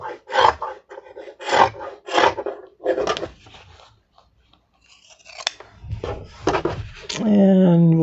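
Scissors snip through fabric while trimming the corners of a patriotic mini quilt: a quick run of four or five crisp cuts, a short pause, then several more close-up snips, followed by a brief tonal sound at the end.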